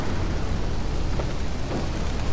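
Rain falling in the GTA 3 game world, a constant dense hiss of rainfall with a low rumble underneath, steady throughout and with no voices.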